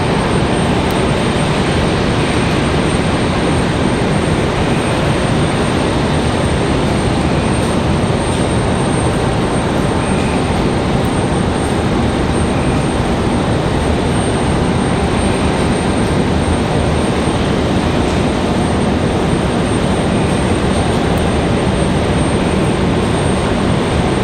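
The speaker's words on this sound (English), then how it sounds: "The MD-11 on the move" A steady, dense engine roar from an MD-11 cargo jet moving on the ground at Raleigh-Durham airport at night runs unbroken and loud, with a faint high whine on top.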